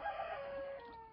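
Chickens on a Ukrainian smallholding, kept alongside ducks, give a brief close cackle with a rooster-like drawn call, loud and steady with no talk over it.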